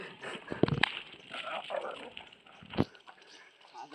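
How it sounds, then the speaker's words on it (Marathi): Village dogs scuffling, with sharp yips and whimpers in short bursts around a couple of louder snaps, fairly faint and distant against quiet outdoor ambience. "आणि इकडे झोंबड लागल्या कुत्र्यांची."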